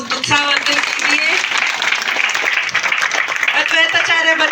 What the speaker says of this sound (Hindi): तालियों के साथ सबका उत्साहवर्धन कीजिए।